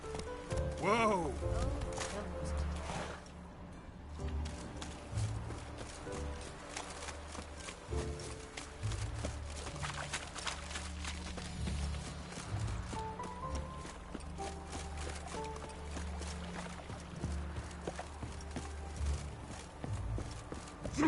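Horse hooves clop steadily in a PS4 video game, a rhythmic galloping beat heard alongside voices and background music.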